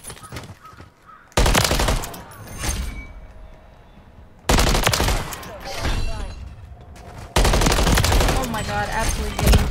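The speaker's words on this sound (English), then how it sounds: "Where am I getting shot from?" Close, loud bursts of automatic gunfire in a Call of Duty MW3 match on Shipment, three long stretches of heavy firing separated by quieter gaps, with a voice in the clip.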